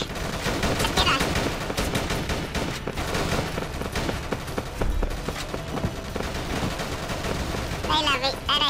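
Rapid gunfire from M16A3 and M4A1 assault rifles in a mobile shooter game, dense bursts of shots running almost continuously at close range over game background sound.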